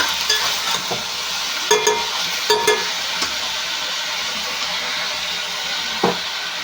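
Chopped onions and green chilies frying in oil in a pan for a spicy prawn masala curry, a continuous loud sizzle broken by several sharp scraping stirs, with no talking.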